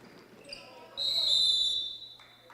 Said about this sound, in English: And a whistle and a tie-up.